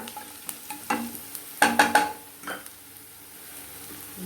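Curry leaves fry in hot oil in a pan while preparing old rice, with a soft sizzle broken by several sharp spoon scrapes and clinks against the pan, close and fairly quiet.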